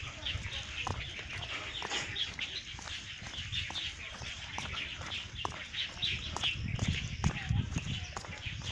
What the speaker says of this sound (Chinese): 哦，鸟叫声。